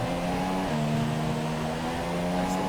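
F1 2017 race car drifting on the Japan track in a video game, a loud, steady high-pitched engine drone held close for a few seconds with no talking.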